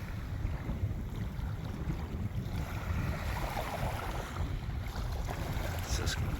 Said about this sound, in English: the sound of the waves is so relaxing, you know. Got a nice gentle breeze.